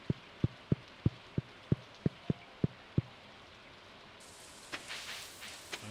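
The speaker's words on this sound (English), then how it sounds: "another rainy day back to back" Rain in Stardew Valley, starting with a steady series of sharp, evenly spaced drips and then shifting to a soft, hissing downpour with scattered louder drops.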